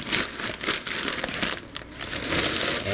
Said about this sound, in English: I'll unfold it and just keep on crumpling it up